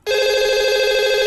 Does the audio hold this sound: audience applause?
no